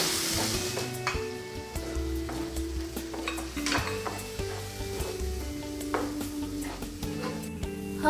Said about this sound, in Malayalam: ഇനി ഇതിലേക്ക് നമ്മൾ അടിച്ചു വെച്ച മുട്ടയൊന്ന് ആഡ് ചെയ്ത് സ്ക്രാമ്പിൾ ചെയ്ത് എടുക്കാം.